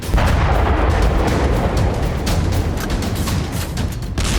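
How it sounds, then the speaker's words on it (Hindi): A heavy, rumbling blast of noise fills the whole clip, loud and sustained like a nearby explosion, as a rocket strikes a truck, with debris roaring afterward. "उस ट्रक पर एक रॉकेट आकर गिरता है और बड़ा धमाका होता है।"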